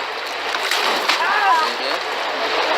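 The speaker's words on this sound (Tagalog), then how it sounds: "Yung pagtapon ng tubig, masyadong maraming babawas dun sa timba." Water thrown from a bucket splashes broadly across most of the stretch during an outdoor island challenge, a loud continuous wash with people talking over it.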